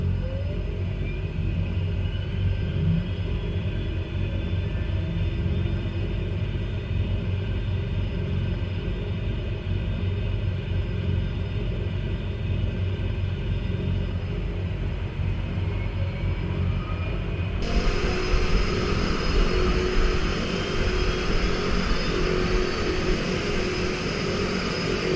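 In Microsoft Flight Simulator, the number 2 engine of an EMB-110 turboprop spools up under a constant droning rumble from the running first engine. The tone rises gradually, and a sudden louder, brighter roar arrives near the end.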